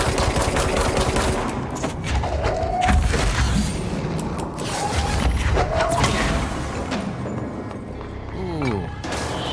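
Gunfire and explosions from a grenade thrown back in the video game Control, with dense bursts of shooting and booms running continuously at high level, with a voice talking over the action.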